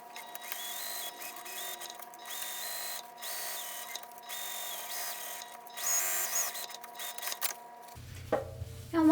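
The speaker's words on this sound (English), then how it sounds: "I'm going to sew around the perimeter of this pouch with a small seam allowance" A sewing machine stitches around the edge of a small fabric pouch, giving a steady close mechanical whirring with brief pauses and restarts before the motor stops and handling noises follow.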